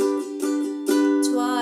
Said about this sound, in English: play our strumming pattern down, down, up, twice, twice on G